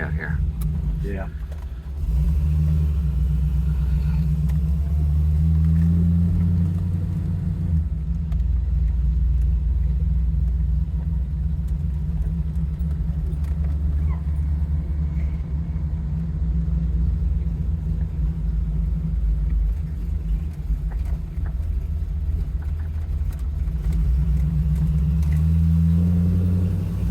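A 1971 Chevy Camaro Z28 with a cammed 400 engine, automatic transmission and Flowmaster mufflers cruises along, its deep exhaust rumble steady and close from inside the car, swelling briefly at the start and end while people talk over it.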